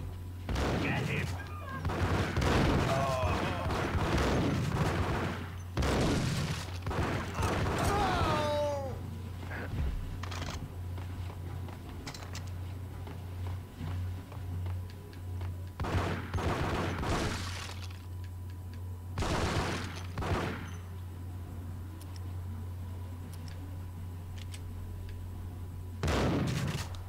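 Max Payne video game gunfight: repeated bursts of gunfire in quick clusters, close and sharp, separated by quieter stretches, with voices speaking in the game between shots.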